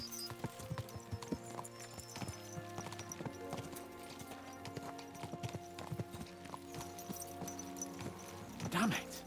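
Horses trotting in a video game, a steady close clip-clop of hooves with a brief neigh near the end, under faint background music and talk.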